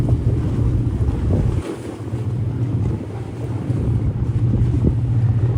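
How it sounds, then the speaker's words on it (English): Steady gusty harbor wind rumbles across the microphone on a boat in New York City, with a constant low roar and faint water wash, no voices. "The breeze is coming right off the harbor."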